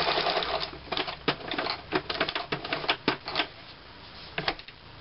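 A sewing machine stitches cord piping onto a striped cushion cover in short bursts of rapid needle clatter, separated by brief pauses as the fabric is turned, close and fairly quiet with no talk.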